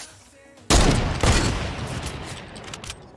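Heavy sniper fire in the battle royale video game Fortnite: one sudden loud shot with a decaying boom, then a second report soon after, followed by a fading tail.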